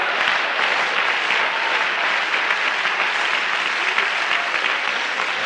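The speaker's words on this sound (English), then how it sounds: "Let's clap our hands unto the Lord again." A church congregation claps its hands together in worship, producing a full, continuous roar of clapping that stays level and close throughout, with no voices rising above it.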